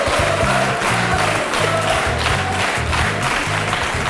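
Sustained, warm applause from an École Centrale de Nantes audience runs for a few seconds, dense and even, with a murmur of voices layered in.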